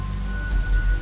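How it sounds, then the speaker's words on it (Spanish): Steady rain falls in the samurai video game Onimusha 2, a constant dense hiss with a soft low rumble underneath. "¡Cómo llueve!"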